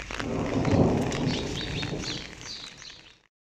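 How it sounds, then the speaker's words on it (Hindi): Steady rain pours down in Islamabad with a dense hiss, a low rumble of thunder rolling underneath, fading out at the end. "बारिश स्टार्ट हो गई है"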